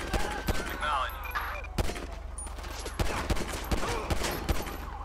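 Gunfire in a GTA 5 police shootout on city patrol with the LSPDFR mod: sharp, close shots crack out in irregular bursts and single reports, with several loud, distinct blasts spread across a few seconds.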